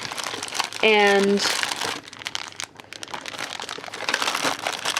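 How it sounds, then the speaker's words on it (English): Small plastic storage bags for scrapbooking supplies crinkle and rustle close up in a craft room, with a short spoken word and a brief tonal sound partway through. "I keep them in these little plastic bags so that I can see what I have."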